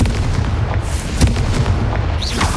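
A Confringo fire spell bursts with a loud, close explosive boom in Hogwarts Legacy, a sharp blast standing out over a dense rumbling backdrop, followed by a brief whooshing sweep near the end.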